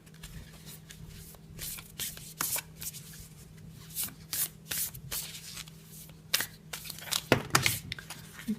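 Tarot cards being shuffled by hand in a quiet room, a run of crisp, papery riffles and slaps in irregular bursts, growing busier toward the end.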